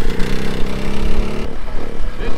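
A small go-kart engine revs loudly and roughly, bogging and straining past quarter throttle on an uphill, then dropping off abruptly partway through.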